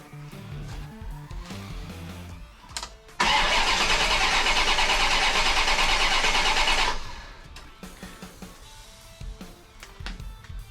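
A car engine cranks without catching in one loud, continuous starter burst of about four seconds, with quieter shop sounds before and after.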